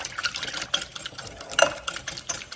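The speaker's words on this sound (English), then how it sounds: "So I start off with 3 eggs. Just beat those up." Three eggs beaten by hand in a bowl for wholemeal pancake batter, a quick rapid clatter of whisk or fork against the bowl, light and close, with no talking.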